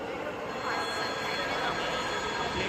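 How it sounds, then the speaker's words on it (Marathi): Loud, continuous rumble of a metro train arriving at a platform nearby, with faint wheel squeal and voices mixed under the noise. "एक नंबरवरची आली मेट्रो"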